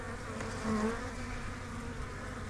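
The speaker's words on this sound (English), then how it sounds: "I'm trying to be gentle with these bees" Honey bees buzz around an open beehive during an inspection of a weak colony. A steady, close drone of many wings continues throughout, with one bee passing nearer for a moment.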